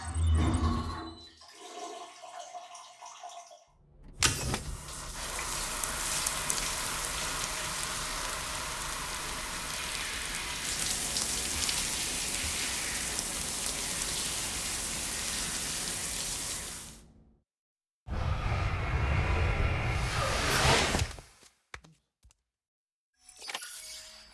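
Shower water in the video game Death Stranding 2 streams down steadily for over ten seconds as a character rinses off, a dense spray hiss that breaks off, then returns briefly before stopping.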